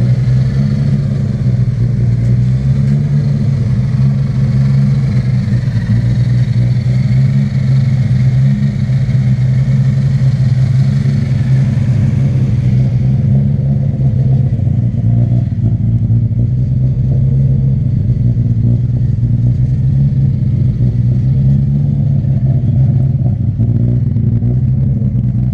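A built 1.5JZ car engine idling steadily, close and loud, with a low, even rumble that stays the same for the whole stretch. No one speaks.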